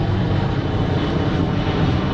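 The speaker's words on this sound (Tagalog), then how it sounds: "may aeroplano pa" A propeller airplane passes overhead outdoors during an evening outing in the Philippines, a loud, steady engine drone filling the whole stretch with no talk.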